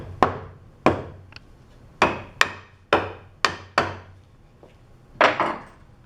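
Wooden trebuchet boards being knocked into alignment with about nine distinct taps at an uneven pace, each a sharp close knock with a short ring, the last a doubled hit.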